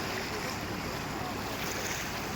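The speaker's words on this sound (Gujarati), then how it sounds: "એ પાણીનો વધારો ચાલુ છે, કારણ કે ઉપર વરસાદ એટલો ચાલુ છે." Rising floodwater rushes through a village after heavy rain upstream, a loud, dense, unbroken roar of flowing water close to the microphone.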